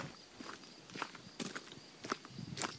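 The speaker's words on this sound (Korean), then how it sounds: "그리고 돌길을 걷는 듯한 느낌이 드는 소리들이 있죠." Footsteps crunch along a stony mountain hiking path in an ambient soundscape, with irregular, fairly close steps and faint background texture.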